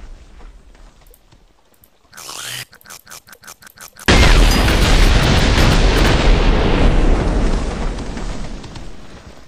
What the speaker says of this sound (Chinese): 像这个也就是发射小炸弹之类的